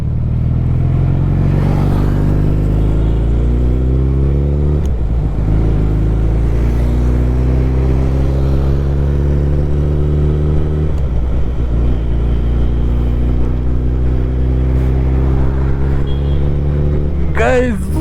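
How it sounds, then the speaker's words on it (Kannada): A Gen 2 Suzuki Hayabusa engine revs while riding, climbing repeatedly through gears in rising pitch sweeps with short dips at each shift, loud and close over steady wind rumble. "Guys, finally riding the Hayabusa."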